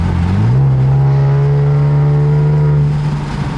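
Infiniti Q60 exhaust revving up and holding a steady, slightly raspy drone at high RPM, loud and close throughout, easing off slightly at the end.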